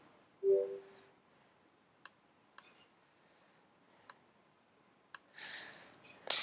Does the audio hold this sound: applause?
no